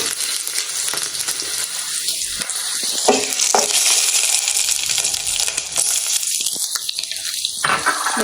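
Green chillies frying in oil on a low flame, a steady bright sizzle with sharp crackling pops and spluttering bursts scattered throughout, close and without talk.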